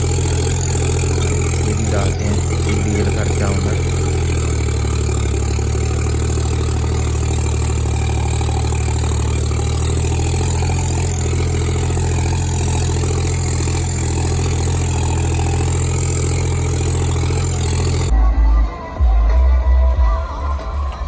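A John Deere 5210 tractor engine drones loudly and steadily up close in second high gear, a low continuous rumble with slight shifts in pitch, then a brief change near the end.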